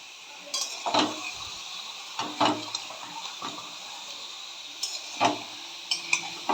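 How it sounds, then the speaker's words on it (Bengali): Chopped vegetables and winter spinach greens dry-roasting in an oil-free wok over a high gas flame, with intermittent scraping stirs and clinks of a utensil against the pan over a soft sizzling hiss, close and without talk. "তাতে আমি কেটে রাখা সবজিগুলোকে ঢেলে দেবো।"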